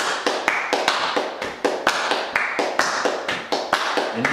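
Steady hand clapping on the upbeats at a worship team rehearsal, about two sharp claps per second, close and even, with soft music underneath.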